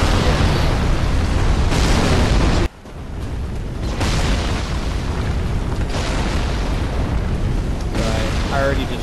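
Crashing destruction of a floor in the game Dark Souls 3, a loud sustained rumbling burst of debris with a sharp cut to quieter ambience midway, then continued heavy noise under game audio.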